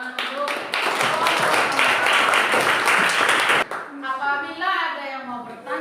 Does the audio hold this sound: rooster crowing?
no